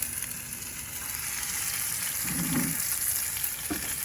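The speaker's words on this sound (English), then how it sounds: "I'm just gonna take these carefully, place them right inside the hot oil pan here." Ahi tuna steaks laid into a hot oiled skillet on a Big Green Egg, giving a continuous loud sizzle and crackle of searing with a brief soft thud of placement partway through.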